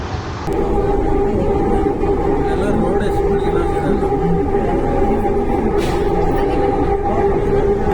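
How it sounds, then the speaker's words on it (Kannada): Steady rumble and hiss of a Bangalore metro train in motion, heard from inside the carriage on the way to Lalbagh, with a sustained tonal hum running continuously; chatter murmurs beneath the ride noise. "ಸೊ ನಾವೆಲ್ಲ ಮೆಟ್ರೋದಲ್ಲಿ ಈಗ ಲಾಲ್ಬಾಗ್ ಹೋಗ್ತಾ ಇದ್ದೀವಿ"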